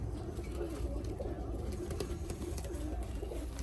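Pigeons, Turkish show breeds including a mantled Damascene type and a Modena, coo in a steady low burble close by, with a parent pair and their young present and a faint background hum.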